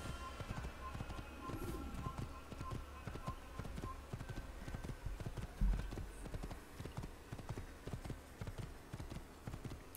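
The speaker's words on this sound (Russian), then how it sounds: "Сдался им человек, который просто на лошади скачет" A horse gallops in Assassin's Creed, its hooves drumming in a fast, continuous rhythm for the whole stretch at a moderate distance, with soft ambient game sound underneath.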